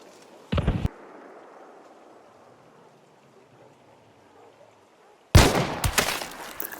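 Two shots from a Lamat carbine rifle in the video game Hunt: Showdown 1896, sharp, loud and close, the first a short crack and the second a bigger blast with echoing tail, separated by quiet ambient game background.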